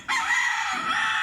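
A backyard rooster crows loudly and close in one sustained, unbroken call, with chickens nearby.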